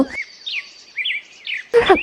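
Bright, rising bird chirps repeat in a lively sequence, clear and close, ending with a short burst of another sound.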